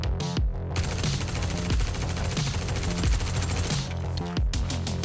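Rapid automatic gunfire in the space game Star Citizen, a loud, sustained burst of shots with brief gaps, near and dense, with no talking over it.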